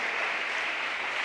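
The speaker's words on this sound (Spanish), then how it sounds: "Dele palmas al Señor en esta preciosa hora" Church congregation clapping hands in praise during a worship service, a steady dense patter of applause filling the room with no voices over it.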